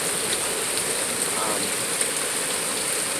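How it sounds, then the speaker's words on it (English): Heavy rain pours steadily during a severe thunderstorm, a dense, even hiss of drops on surfaces, loud and close with no talking. "The heavy rain was to the south and then that's coming here."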